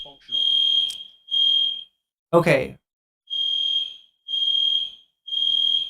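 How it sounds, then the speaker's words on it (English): A fire alarm beeps loudly and close in repeated shrill tones, about five pulses with short gaps, interrupted once by a brief spoken word. "That's a fire alarm,"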